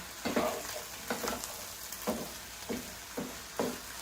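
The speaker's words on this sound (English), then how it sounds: "And then you'll just want to stir it occasionally to keep it from burning and keep all of it cooking evenly." Vegetables sizzle in a hot pan while a utensil stirs them, scraping in regular sweeps about every second over the steady frying hiss, quiet and close with no talk.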